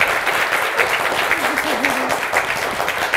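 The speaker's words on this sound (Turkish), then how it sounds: "Bir alkış daha kendisine." Studio audience of the Turkish word-game show Kelime Oyunu applauds steadily for about three seconds, a dense, even clatter of many hands, with a brief tonal voice-like sound faintly underneath midway.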